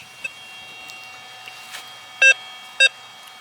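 A Rutus Versa NC 4.72 metal detector gives two short, sharp electronic beeps over a lead Minie bullet buried 10 inches deep in red iron-ore soil, against faint background hiss.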